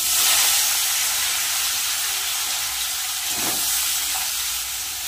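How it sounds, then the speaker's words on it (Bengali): Bitter gourd and potato fry in hot oil in a wok, a loud, steady hiss of bubbling oil that holds evenly throughout. "তেল গরম হয়ে গেছে, উচ্ছে আলুটা ভেজে নেব।"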